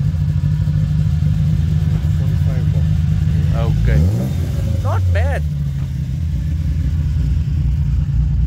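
Toyota Corolla engine with a branch manifold and free-flow exhaust pipe rumbles steadily and loudly at idle, with voices talking over it and a brief rev near the middle.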